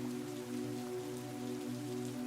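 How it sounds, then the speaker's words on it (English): Rain pours down in a steady, even wash over a low sustained tonal hum, constant throughout with no voices. "Today is a rainy day like this. It's been pouring down all morning"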